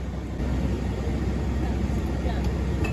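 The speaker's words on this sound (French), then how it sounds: "On est dans l'avion, on se dégourdit les jambes, il reste 5 heures de vol." Inside an airplane cabin mid-flight, the steady low engine drone and broadband air roar fill the space evenly and constantly, with no break in the hum.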